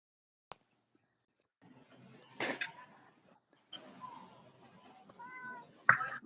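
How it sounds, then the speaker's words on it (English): A house cat meows a few times at close range, short tonal calls spread across the clip amid quiet background rustling and a sharp knock near the end. "He's over here meowing."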